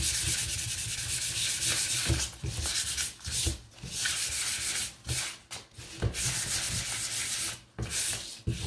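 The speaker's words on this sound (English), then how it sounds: "Really hard to kind of sand the sides, but just do your best just to" Sandpaper rubs back and forth along the sides of a wooden sign holder in close, steady strokes, pausing briefly now and then before the rasping resumes.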